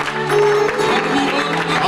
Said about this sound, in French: Est-ce qu'on peut encore applaudir très fort le roi des rois?